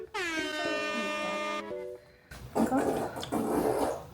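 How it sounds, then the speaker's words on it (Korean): A long, drawn-out squeaky dog fart with a buzzing, horn-like tone, followed by a noisy burst of reaction. "나 강아지 방구 소리 처음 들어봐"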